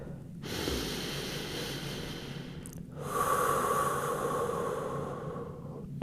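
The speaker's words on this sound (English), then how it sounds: "Big breath in." Deep nasal breath in during a yoga hip flexor drill, a loud close airy inhale followed after a short pause by a stronger, rougher breath.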